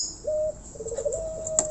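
A caged Javan golden oriole in rough condition, its tail feathers worn away, gives a few clear, fairly faint whistled notes, one long held note followed by shorter wavering ones, with no talking.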